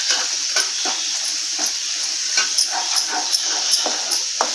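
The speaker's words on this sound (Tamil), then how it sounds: "சும்மா லேசாக அந்த எண்ணெயில் பரட்டி விட்டுக்கிறலாம்." Ground spices such as coriander, chili, garam masala and turmeric powder stirred briefly in hot oil for a potato egg curry, giving a steady close sizzle broken by repeated scraping stir strokes, with no talking.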